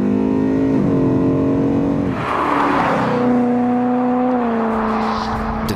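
A Wiesmann MF4 Roadster sports car with sport mode engaged revs loudly and close by, its engine note climbing, dipping briefly, then pulling up again in a sustained rising roar with no talking.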